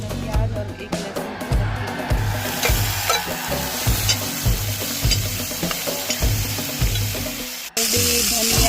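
Potatoes, onion and garlic fry in a pan with a loud, steady sizzle, broken by rhythmic scraping stirs and occasional clinks, while a voice talks underneath throughout.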